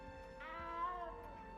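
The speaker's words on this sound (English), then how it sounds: "You don't need to be frightened, little cat." A cat in the video game Hogwarts Legacy lets out one drawn-out, rising and falling meow, fairly clear against a quiet background with no talk.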